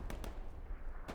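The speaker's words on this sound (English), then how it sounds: "Oh, but the artillery going down as well." Artillery fire booms during a Hill 400 battle in a multiplayer war game, two quick muffled blasts followed by a third after a short pause, over low rumbling battle noise.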